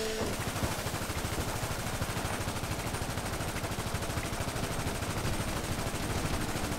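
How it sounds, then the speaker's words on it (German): Rapid automatic gunfire from GTA 5 Online, a dense, continuous stream of shots with full-magazine bursts that carries loud and steady throughout without pause. "ich hab gleich ein ganzes Magazin rausgeballert"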